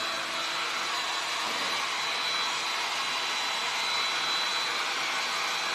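A hair dryer blows steadily on fresh paint on a wooden gnome door, a loud, close, unbroken whoosh with no talk over it.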